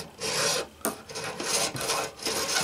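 Metal guitar frets being dressed with a diamond crowning file, a series of raspy back-and-forth filing strokes, close and fairly quiet, with short pauses between passes.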